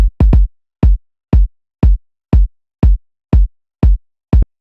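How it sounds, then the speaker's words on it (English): A soft acoustic kick drum in an organic house style thumps alone, about ten dry, deep hits with a quick double at the start, then a steady, evenly spaced pulse. "So this is an acoustic kick, it's quite a soft kick."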